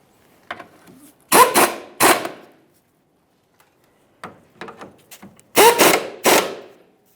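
Bolts with 15mm heads are run in on the cross member under a Chevrolet Trailblazer, with bursts of a power tool buzzing in two clusters separated by a quiet gap, close and loud.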